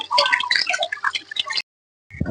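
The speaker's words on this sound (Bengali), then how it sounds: "কলের মধ্যে মোচাটা একটু ধুয়ে নিচ্ছে" A banana flower is rinsed under a running kitchen tap, with splashing, gurgling water for about a second and a half, then a brief silence before the water starts again.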